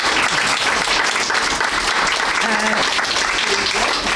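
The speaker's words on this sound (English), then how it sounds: "one more big round of applause" A storytelling event audience gives a big round of applause, steady dense clapping filling the whole stretch at close range, with brief vocal tones poking through midway.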